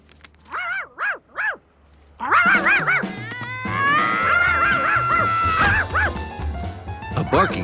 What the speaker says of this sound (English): A barking Charky was even worse than a puddle.